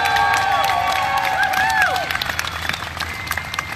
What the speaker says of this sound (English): Let's give a big round of applause for Miss Tori Harper.